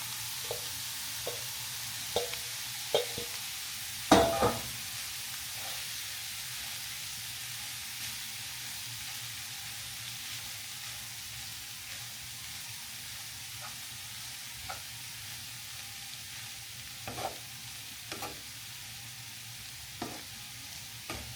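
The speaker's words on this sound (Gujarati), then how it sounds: "ધીરે ધીરે બધું મિક્સ કરી દેવાનું છે." Poha with potato, carrot and turmeric masala is stirred in a hot pan, a soft continuous frying hiss broken by occasional scraping knocks of the spoon, close and moderately quiet, no talking.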